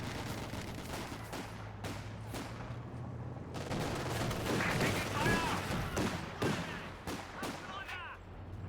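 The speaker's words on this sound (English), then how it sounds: "Sneaky attempt here with the rifle grenade." Gunfire and explosions come from a multiplayer strategy video game during a rifle grenade attempt, with rapid bursts of shots and thumps over a steady battle din and a voice speaking over it.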